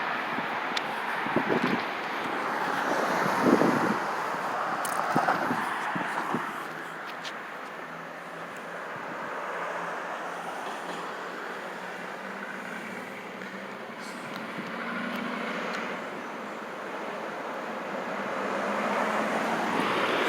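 Cars pass on a residential street near a house, heard while walking: a distant, breathy traffic rumble that swells and fades several times, with no close, sharp pass-by.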